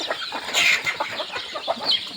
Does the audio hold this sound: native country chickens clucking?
yes